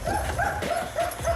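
A police dog on a search mission gives a quick run of short, whining yips and barks, several rapid bursts in just over a second, close by and fairly loud.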